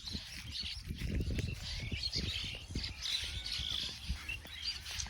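Birds feeding on insects in a harvested sugarcane field fill the air with overlapping squawks and chirps from several birds, moderately distant and fairly faint, over low rustling field noise.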